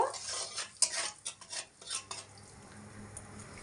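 A spoon scrapes and clinks against a pan while salt and turmeric are stirred into oil, a few close irregular strokes that then fade into a quiet, faint hiss.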